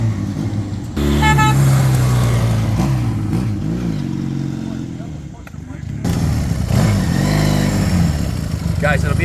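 A 1966 Honda CL160 Scrambler motorcycle engine running close by, loud throaty idle with revs rising and falling, dipping briefly before picking up again, with people talking over it.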